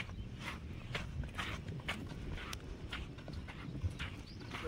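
Rhythmic clopping of bullock hooves on ground, irregular steps close by over a low background rumble, near a riverbank where bullock carts are loaded with sand.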